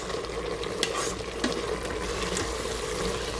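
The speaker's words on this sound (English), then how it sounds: "In goes the garam masala powder and the ground powder. Let's give it a stir." Garam masala and ground spice are stirred into pepper chicken in an Instant Pot. The stirring sounds over a steady frying sizzle, with a couple of sharp scrapes against the pot.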